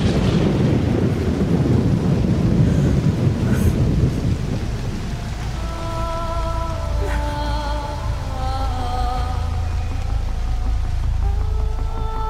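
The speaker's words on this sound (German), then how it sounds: "Das Geräusch des Regens begleitete mich in den Schlaf." Heavy rain and rolling thunder in a horror audio drama, a loud dense downpour with a deep rumble that fades into steady rainfall, faint whistling tones appearing later over the wash of rain.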